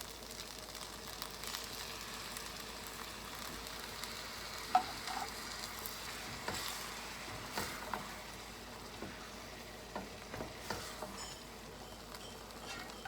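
Arborio rice simmering with added stock for shrimp risotto: a soft, steady bubbling sizzle with scattered light stirring ticks and scrapes, fairly quiet and close.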